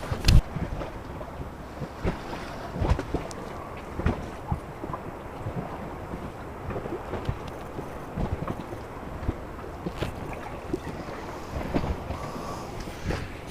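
Steady wind buffets the microphone around an inflatable boat on a choppy morning, with small water slaps and knocks against the hull scattered throughout, moderately loud and without speech.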